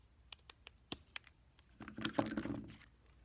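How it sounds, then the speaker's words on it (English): Scissors cut a small circle out of folded paper, with a handful of crisp snips followed by a denser crinkling rustle as the paper is handled, quiet and close, with no talk. "somebody likes to take and cut a circle out of here"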